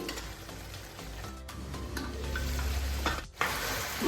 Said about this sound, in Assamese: এনেকৈ লৰাই লৰাই ভাজি থাকিম